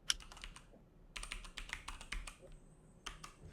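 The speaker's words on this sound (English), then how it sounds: "And we can type in a password." A password is typed on a computer keyboard in a short burst of soft, close key taps with an uneven rhythm, under faint background noise.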